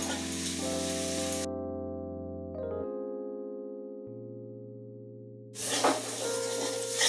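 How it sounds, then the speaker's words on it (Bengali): A spice paste of cumin, coriander, chili and turmeric fries in a pan, sizzling in bursts at the start and end around a quieter middle stretch with steady tonal hum, no talk. "এবার ভালো করে মশলাটা কষে নেব।"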